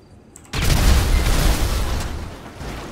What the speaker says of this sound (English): Oh, I can just blow them up.